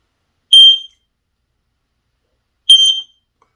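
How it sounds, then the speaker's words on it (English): Two loud, piercing 85-decibel beeps from an Aegislink SC RF220 smoke and CO detector's test button, each lasting under half a second, separated by about two seconds of silence. "this has an 85 decibel alarm on it"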